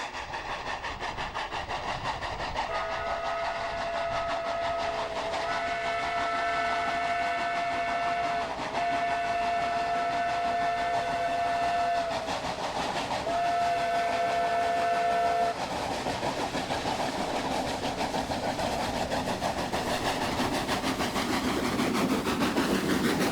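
Steam locomotive on a British railway running under a steady rumble, with a steam whistle sounding in several sustained, chord-like blasts separated by short breaks through the middle, then the engine noise continuing alone.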